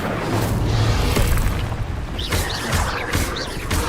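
Incendio fire spells cast in Hogwarts Legacy, a series of booming fiery bursts with crackling whooshes and shimmering magical tones, loud and up close with no voices.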